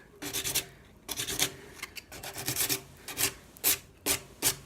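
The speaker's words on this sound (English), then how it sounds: "when you have this course of sandpaper, it doesn't take a lot of effort to take off the paint." Coarse sandpaper rubbing paint off a surface by hand, a run of rough, rasping back-and-forth strokes in close, steady bursts with short pauses between passes, no voices.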